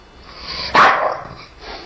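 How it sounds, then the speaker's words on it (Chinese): A sleeping bulldog gives a single loud, muffled bark mid-dream that stands out sharply from the quiet around it. "用力汪了一声，是梦到别只狗狗在跟你抢骨头吗？"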